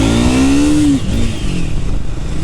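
A motorcycle revs and pulls away close by, its engine note climbing in a steady rising whine for about a second before settling into a rough, loud drone with road and wind noise.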